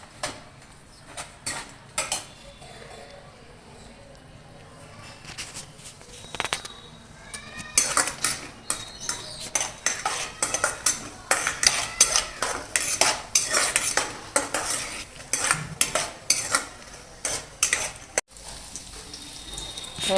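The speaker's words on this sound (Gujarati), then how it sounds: "કાજુ બદામ ઘીમાં શેકાઈ રહ્યા છે." A metal spoon stirs cashews and almonds roasting in ghee in a pan, scraping and clinking in quick, irregular strokes. The stirring is faint at first, then grows busier and more rhythmic, close up with no talking.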